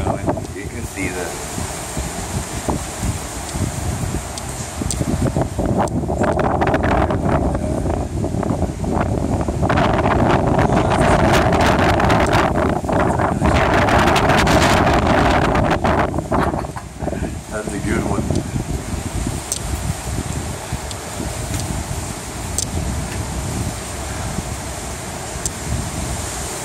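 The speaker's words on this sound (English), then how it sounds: "see the palm trees and the wind is howling pretty good" Hurricane Irma wind gusting and howling through palm trees, a loud sustained roar that swells and surges in mid-clip, with microphone buffeting and occasional voice underneath.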